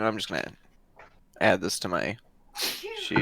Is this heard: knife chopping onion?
no